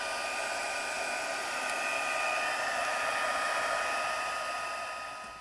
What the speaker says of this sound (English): And then we heat set.